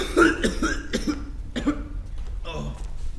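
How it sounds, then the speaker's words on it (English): A person coughs several times in quick, harsh bursts, close by, during a university stage play, followed by a short throat-clearing rasp. "it's just a cough, a tickle in the throat"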